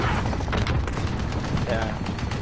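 Rapid bursts of gunfire from a gun being tried out, loud and dense with a rattling, overlapping texture, with some voice mixed in.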